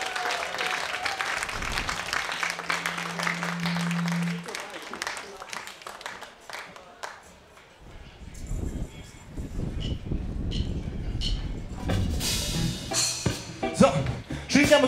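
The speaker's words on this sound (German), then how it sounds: "Applaus für Johanna an der Bratsche" Audience applause for a viola player at a live band concert, clapping rising and falling at moderate distance under a sustained instrumental tone and some talk.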